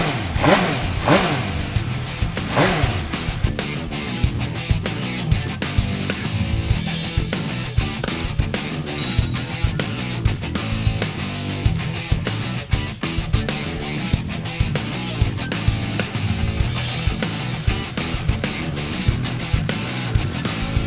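A 2018 MV Agusta Brutale motorcycle engine revs repeatedly, loud and close, with sharp throttle blips and a rough, rumbling idle between them.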